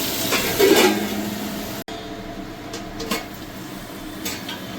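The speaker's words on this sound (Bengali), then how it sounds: "এটা 2 মিনিট আমি একটু এটা ভালো করে ভেজে নেবো।" Onion and capsicum fry in a pan for chilli chicken, giving a steady broadband sizzle with a few clinks of utensil against the pan, moderately close and without talk.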